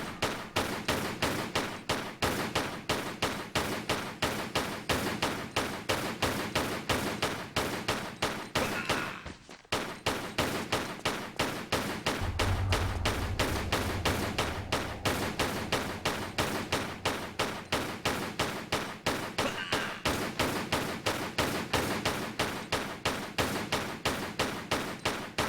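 Pistol fire in the Tomb Raider level editor level Shipwreck Ithaca crackles in a fast, relentless stream of sharp shots against three gunmen, with a brief pause partway and a low rumble joining later.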